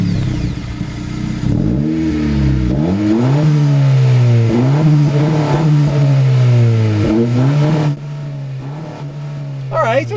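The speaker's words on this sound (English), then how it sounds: "I think we should do a quick rev battle to see what these two Civics sound like." A 2025 Honda Civic Si engine is revved repeatedly in sharp bursts, pitch climbing and falling over a steady idle, loud and close, with a voice talking briefly over it.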